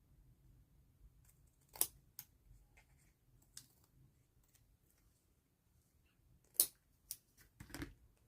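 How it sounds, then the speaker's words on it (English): Quiet, sparse crisp snips of scissors trimming the edges off paper for a papercraft project, a handful of separate cuts spaced a few seconds apart with a double snip near the end, close and isolated. "I'm going to quickly trim these edges off"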